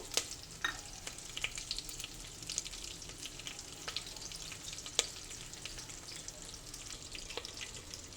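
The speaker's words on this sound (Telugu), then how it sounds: "ఈ పోపు అంతా కూడా కాగి నూనెలో వేసాను" Low, steady crackle of spices sizzling in hot oil, with scattered pops and light clinks, fairly quiet and without any voices.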